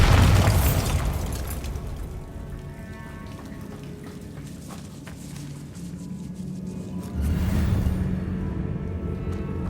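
In Hogwarts Legacy, the Bombarda spell goes off with a loud burst at the start, a rumbling tail, then a second heavy blast near the end.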